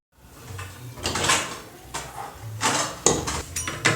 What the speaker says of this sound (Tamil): இப்போ மூடி வச்சிடலாம்